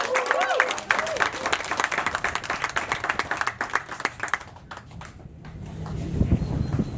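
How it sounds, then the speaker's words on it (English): Audience clapping at a Miami fishing tournament awards ceremony, a busy patter of hands with cheers and voices mixed in, tapering midway and then picking up again near the end. "Big round of applause for Dan."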